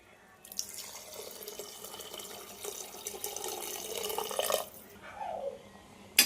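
Water being poured into a pressure cooker of rice for tomato rice, a steady running, trickling pour lasting several seconds before stopping, close and moderately loud with no talking.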